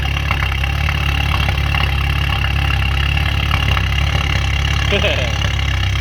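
A VW MK7 GTI engine fitted with a new 4-inch downpipe idles with a loud, steady, deep drone throughout, and voices talk over it.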